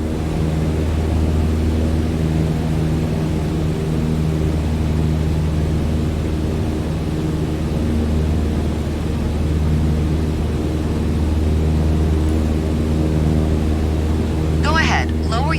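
Light aircraft engine in Microsoft Flight Simulator 2020, a loud, steady droning hum with a constant propeller buzz that runs evenly throughout.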